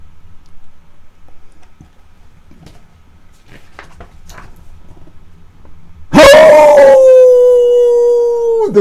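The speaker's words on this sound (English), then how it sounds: "The wolf howled for joy." A single long wolf howl rises suddenly and holds a steady wavering tone for a couple of seconds, loud and close, after a stretch of quiet rustling and faint scattered noises.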